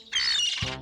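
A single loud seagull squawk rings out, a harsh, sustained cry close by that ends with a lower, rougher note.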